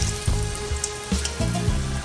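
Potato pieces sizzle and spit in hot oil as they are added to the pan, a steady near crackle with a few louder bursts and no talk.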